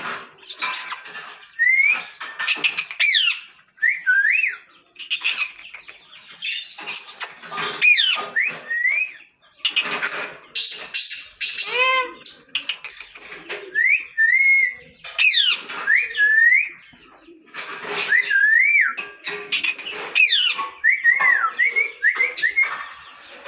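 A pet bird calls repeatedly in sharp, bright chirps and warbles, answering a series of human whistles; the calls and whistles alternate and overlap throughout at close range, with no talking.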